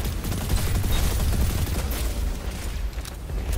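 Anarchy grenade launcher fire in Destiny 2 during a Grandmaster Glassway run, a dense, loud barrage of booming blasts and crackling explosions layered over game noise, continuous for a few seconds with no voices.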